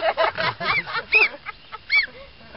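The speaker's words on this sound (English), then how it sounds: "What are you going to do with that goose, Makai, huh?" A young goose, a gosling, honks in several loud, close bursts that come at uneven intervals, with quieter calls in between and no talking.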